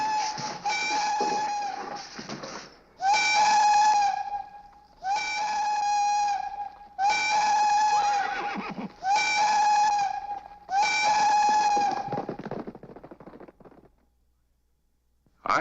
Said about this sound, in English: Checked my watch with the 5 o'clock whistle at the Tombstone mine